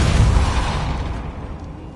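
A Depulso force spell cast in Hogwarts Legacy, heard as a loud low burst that hits at once and then fades away over about two seconds, with no talking.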